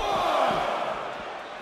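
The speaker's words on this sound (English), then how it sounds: "Hot crowd here tonight in Minneapolis" Arena crowd noise from a WWE 2K16 wrestling game event in Minneapolis, a loud, steady roar of cheering that fills the whole moment and fades slightly toward the end.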